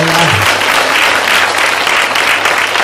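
A congregation claps during a Hindi sermon about Mother Mary, loud, dense and sustained applause filling the whole stretch, with a low tone fading at the start.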